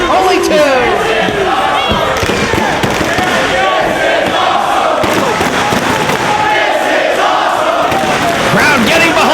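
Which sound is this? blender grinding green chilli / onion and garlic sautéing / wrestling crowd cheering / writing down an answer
wrestling crowd cheering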